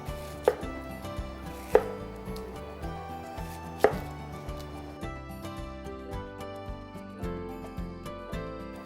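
Pear being chopped on a cutting board, a steady run of knife taps against the wood with a few sharper, louder strikes, close and alone with no voices.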